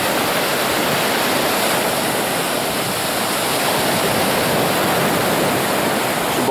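Sea waves wash onto the shore of Kadırga Bay near Çanakkale, a dense, loud, continuous roar of surf close by with no distinct breaks and no talking.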